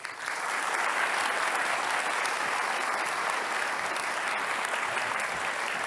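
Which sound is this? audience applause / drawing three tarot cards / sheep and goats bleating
audience applause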